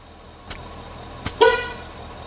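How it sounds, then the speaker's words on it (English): A single short honk from an Infiniti QX80's horn sounds while a tire is being inflated to 35 PSI, preceded by a couple of faint clicks. "I hope you heard the honk."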